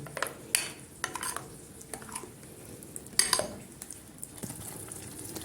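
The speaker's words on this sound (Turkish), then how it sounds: "Şöyle bir taraftan döküp bir taraftan da karıştırıyorum." Cabbage soup being poured and stirred in a metal pot, with a spoon clinking and scraping against the sides in scattered, sharp knocks over a quiet kitchen background, no voices.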